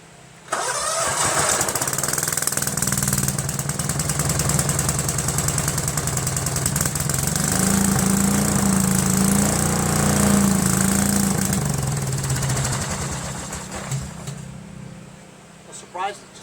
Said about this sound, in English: I'm surprised it just started like that.